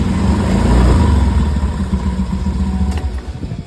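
A Honda Beat Fi V2 scooter with a faulty throttle position sensor idles roughly, its engine hunting and stumbling in uneven pulses, loud and close, with no talking over it.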